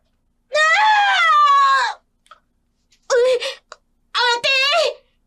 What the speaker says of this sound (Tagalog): Isang sigaw na puno ng sakit at pagdurusa.